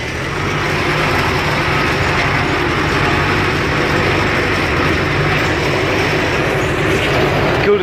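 Loud, steady engine drone from an Ursus C-360 tractor pulling a harrow across a freshly sown field, a heavy continuous rumble with no pauses and no clear speech.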